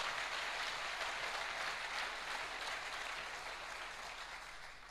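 A church congregation applauding during a worship service, a dense, sustained wash of clapping that fills the space and fades slightly toward the end, with no talk.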